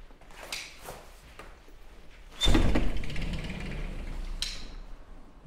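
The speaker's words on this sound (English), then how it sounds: "Right, door's open." A hotel room balcony door in Tenerife is opened with soft mechanical clicks and a sliding rumble, followed by a louder rush of outside air and noise.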